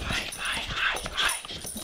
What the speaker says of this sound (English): My dog may bark